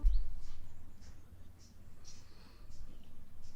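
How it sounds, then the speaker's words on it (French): Birds chirp outside a writer's studio with short high tweets scattered every half second or so, faint over a quiet low background hum. "les oiseaux qui chantent"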